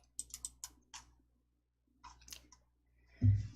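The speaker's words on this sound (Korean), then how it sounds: "D 완성 더블 클릭." Mouse clicks in a computer-class setting during a PowerPoint exercise: a quick burst of several crisp clicks near the start, a pair more around the middle, and a couple after a pause, close and clean with no talk.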